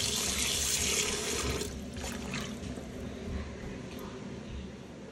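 Meat being rinsed under a running kitchen tap, with steady water splashing loudly for the first second or so before settling into a softer continuous flow.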